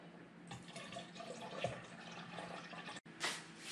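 Water pours steadily into a container of homemade cherry wine, a soft continuous trickling that briefly cuts out before resuming.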